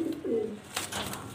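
Jorna shatting pigeons, a breeding pair of male and female, give low cooing calls close by, a couple of soft rolling coos followed by rustling and faint movement sounds in an otherwise quiet space.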